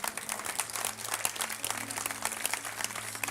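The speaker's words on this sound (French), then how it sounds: "Est-ce que je peux entendre tous ceux en qui Dieu agit ce matin," A church congregation clapping and cheering during a French-language service, a fairly quiet, continuous wash of many hands with a low steady hum underneath and no speech on top.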